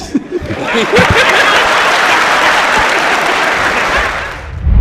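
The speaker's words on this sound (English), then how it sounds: "Can I clap for 1 minute?" At a testimony hearing on the Ezego conspiracy, a crowd gives loud, dense applause that rises quickly, holds steady for several seconds, then tapers off. A few chuckles can be heard at the start.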